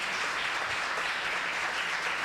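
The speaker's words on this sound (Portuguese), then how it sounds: "Você pode aplaudir Jesus por isso?" Steady, dense applause from a church congregation at a family worship service, a continuous wash of many hands clapping at even loudness throughout, with no voices standing out.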